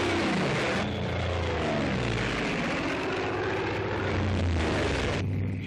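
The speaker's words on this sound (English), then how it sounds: "Hellcat, the deadliest thing on wing." Propeller drone of a WWII-era U.S. Navy Hellcat fighter plane in flight, a loud, steady engine roar that holds evenly throughout with no talk over it.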